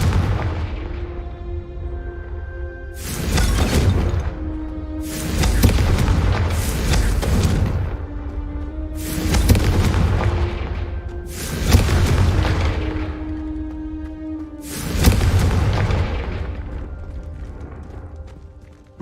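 Confringo explosive spells blast repeatedly in Hogwarts Legacy: six loud, booming explosions land every few seconds over a sustained tonal hum, each with a sharp onset and a roaring decay.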